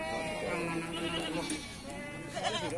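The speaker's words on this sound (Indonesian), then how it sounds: "dua ekor kambing betina" Goats bleat at a livestock market where black female goats and males are being sold, with several wavering calls rising over a busy crowd murmur and traders talking nearby.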